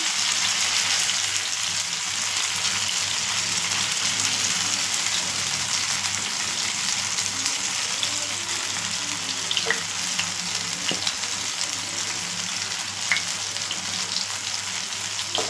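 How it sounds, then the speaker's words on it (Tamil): Marinated chicken leg pieces fry in a pan of oil, a dense, continuous crackling sizzle like heavy rain that holds steady throughout, with a few faint knocks and no talk. "இப்போ நம்ம கறி அடுப்பில் எண்ணெய் சட்டியில் வச்சுக்கலாம்"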